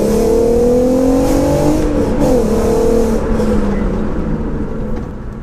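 An R32 car engine accelerates while driving, its loud droning tone climbing in pitch, dipping briefly as if shifting, then pulling again before easing off toward the end.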